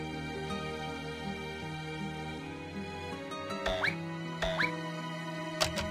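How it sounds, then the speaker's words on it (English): A door unlocking in The Witch's House MV game: a few brief squeaky clicks near the end, set against steady, soft background music with no voices. "You heard something unlock."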